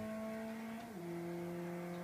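A small turbocharged car's engine in the Live for Speed racing game drones at a steady tone, its pitch dropping a step partway through before settling into an even hum, with no talking.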